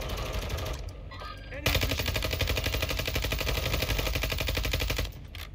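Rapid automatic gunfire in Warzone 2 rattles in a sustained burst of several seconds, loud and close, after a shorter stretch of scattered shots.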